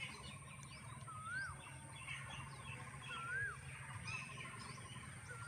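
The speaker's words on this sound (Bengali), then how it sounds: "চারিদিকে কোকিলের ডাক" Faint birdsong from a distance in a Siliguri tea garden: an Asian koel's rising whistled calls repeat a few times over low background rumble and other small chirps.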